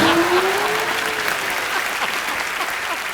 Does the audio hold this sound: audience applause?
yes